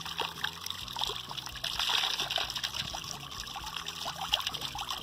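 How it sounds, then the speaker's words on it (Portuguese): A non-electric water pump drives water out through a pipe, a steady trickling and splashing flow with small gurgles, fairly quiet and continuous with no talk. "Aí a válvula fechou, está jogando a água para fora."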